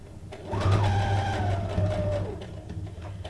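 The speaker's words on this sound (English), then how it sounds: "I'm just going to go around this with a straight stitch" A sewing machine runs a straight stitch around a paper image, a steady close motor hum and whirring drive lasting a couple of seconds before easing off.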